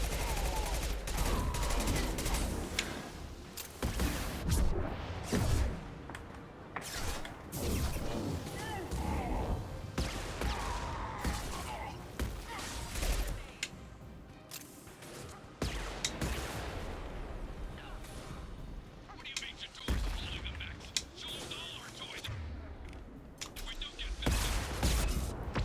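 Rapid gunfire bursts and crashing impacts from the video game Mass Effect 2 come in irregular loud volleys, mixed with other combat effects over a continuous busy background.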